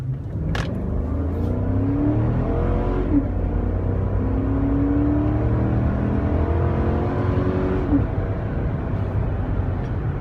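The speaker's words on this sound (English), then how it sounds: "And it clearly shows that it has a big V8." A 2015 Chevrolet Suburban LT with a big V8 accelerates, a steady low engine drone rising in pitch through two long gear pulls with a brief shift between them, heard from inside the cabin with no talking.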